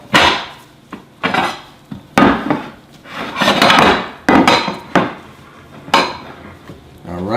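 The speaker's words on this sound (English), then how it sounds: "I'm going to get some plates out" Plates pulled out in a home kitchen, a run of sharp ceramic clatters and clinks in irregular bursts, close and loud, with quieter scraping between the knocks.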